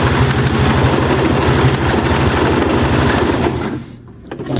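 Singer sewing machine stitching fabric on a wide zigzag setting, a loud, steady rapid mechanical chatter close by that runs without a break for about four seconds, then pauses briefly before starting again.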